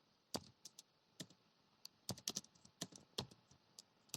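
Python code being typed on a computer keyboard, with quick irregular clusters of crisp key clicks close to the mic in an otherwise quiet room.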